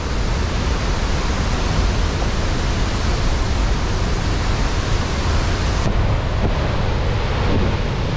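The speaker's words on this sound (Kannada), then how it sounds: "ಬೇಸ್ ಆಫ್ ಅತಿರಪಲ್ಲಿ ವಾಟರ್ ಫಾಲ್ಸ್ಗೆ ಒಂದು 200 meters ವಾಕಿಂಗ್ ಮಾಡ್ಕೊಂಡು ಬಂದಿದ್ದೀವಿ" Roaring water thunders at the base of Athirapally waterfall, a loud, unbroken broadband rush close by, buffeted by wind against the microphone, with no voices.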